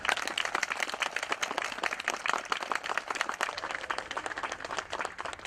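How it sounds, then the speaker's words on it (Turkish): A crowd gives a big round of applause at an event at the Togg site, continuous close, busy clapping from many people with no talk over it. "Abilerimize ve doktorlarımıza kocaman bir alkış istiyorum."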